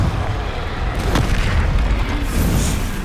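A loud, close, rumbling burst from the Confringo fire spell in Hogwarts Legacy, a heavy sustained roar with a short flare partway through and no speech.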